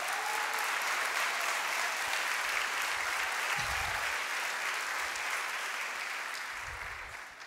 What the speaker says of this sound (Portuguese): Uma salva de palmas para essa profeta.